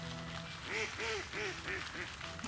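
Ducks quack in a short run of about five calls, fairly clear above a soft background hum, with no talking over them.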